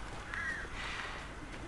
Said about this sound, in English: there's a swarm of crows up there.